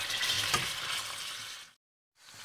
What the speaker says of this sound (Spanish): En una olla con cuatro cucharadas de aceite de oliva bien caliente pondremos los codillos para sellar.